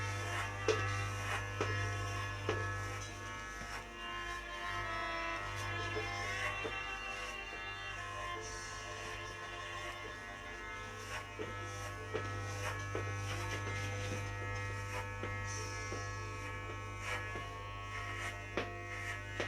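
Electric hair clipper cutting a boy's hair at home, a continuous loud buzzing hum with shifting tone as the blades move through the hair, plus occasional small clicks and rustles.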